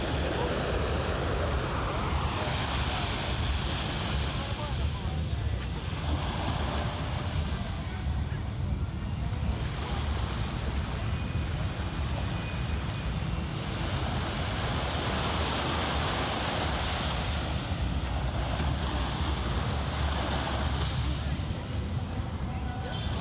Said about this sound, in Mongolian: Чимээгийн сонсъё бүгдээрээ гой усны.